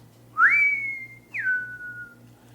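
Two clear whistled notes, the first rising then held and the second falling then held, close and alone against a faint low hum, like the whistling used to communicate.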